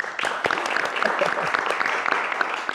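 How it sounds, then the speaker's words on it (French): An audience applauds during a talk about a children's reading program in Rwanda, steady dense clapping throughout, close and lively. "Il faut applaudir pour vous."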